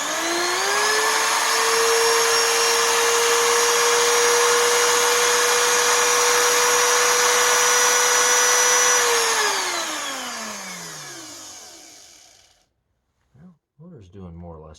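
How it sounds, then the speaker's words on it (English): An Oreck XL2800 vacuum cleaner motor, its bearings freshly repacked and carbon brushes seated, whines loudly and steadily at close range, then spins down after the power cuts, leaving silence and a few brief handling noises. "Motor's doing more or less all right"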